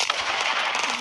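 A butterfly firecracker bursting in a Diwali firecracker video game, a short, dense, crackling blast that fills the whole moment with no pause.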